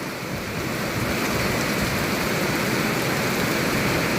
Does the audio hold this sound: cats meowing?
no